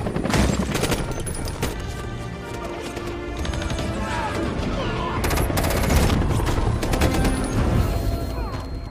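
Rapid bursts of heavy gunfire rake soldiers from attacking aircraft in a film battle scene, dense volleys and crashing impacts stacking up loudly for the whole stretch.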